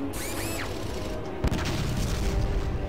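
Gunfire from the video game Fallout Tactics: a burst of distant shots near the start, then a single sharp, louder report mid-clip, set against a steady bed of game ambience and music.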